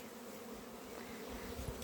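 Young bees on their orientation flight around beehives in a cold spring, a dense steady buzzing hum of many insects close by with no talking.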